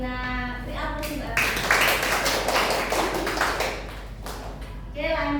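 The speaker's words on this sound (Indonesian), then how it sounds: "Beri aplaus Mbak." Students in a classroom break into applause for a classmate during a microteaching tax lesson, with a few seconds of dense hand clapping close by and voices before and after.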